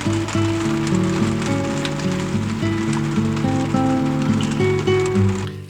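Heavy rain drums steadily on the roof of a camper van during a thunderstorm in Slovenia, heard from inside with the air conditioning running; a continuous loud patter under layered steady tones.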